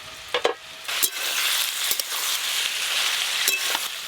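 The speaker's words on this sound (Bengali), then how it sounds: "চাপা খুলে আর একবার সবজিগুলো নেড়ে নেব" Vegetables frying in a pan while being stirred, a continuous close sizzle punctuated by several sharp scraping clicks of the spoon against the pan.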